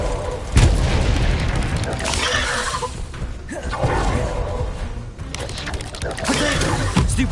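Blasting spell explosions from Hogwarts Legacy, a fantasy video game, with repeated booming bursts and crackling impacts over continuous battle noise and a speaking voice throughout.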